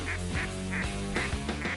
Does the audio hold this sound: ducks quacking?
yes